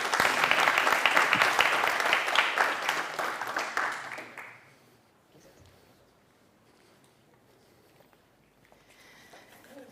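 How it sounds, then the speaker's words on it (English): Audience applause at an awards ceremony for an affordable nutrition challenge: dense clapping for about four seconds that fades out, followed by near quiet with faint room noise. "another big applause for Circular Fiber"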